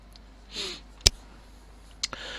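A single sharp computer mouse click sounds close and crisp in a quiet room, with a fainter second tick about a second later and no talking.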